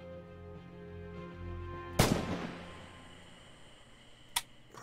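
A single loud bolt-action rifle shot in Red Orchestra 2, Heroes of Stalingrad, a sharp crack with a long echoing tail, then a fainter snap a couple of seconds later over low ambient hum.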